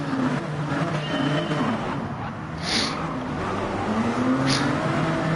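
Race cars pulling away at the start at Interlagos in a racing video game: steady engine drone with rising gear-change whines and a couple of brief high squeals, moderately loud with no talk.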